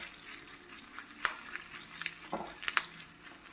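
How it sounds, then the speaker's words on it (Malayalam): Ginger sautéing in a pan for inji pachadi, a Kerala ginger and curd curry, with a steady close sizzle and a few sharp clicks from a utensil stirring the pan. "അതുവരെ വഴറ്റി മൂപ്പിക്കാം."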